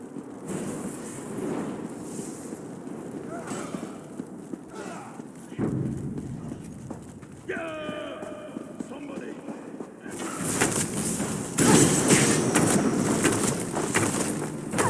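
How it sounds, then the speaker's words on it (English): Horse hooves clip-clopping in the video game Elder Scrolls Online, a steady rhythmic trot at mid distance that grows louder toward the end, with voices talking and a bird call in between. "I'll secure the horses while you go on ahead."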